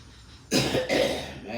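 A single close, harsh cough in two quick bursts, then a short fading tail.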